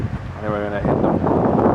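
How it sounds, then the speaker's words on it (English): Wind gusting outdoors at a house renovation in Bakersfield, a steady broadband roar buffeting the microphone throughout, growing louder in the second half, with a voice talking under it at the start. "A little windy here today"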